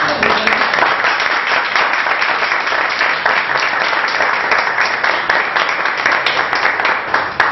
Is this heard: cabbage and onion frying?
no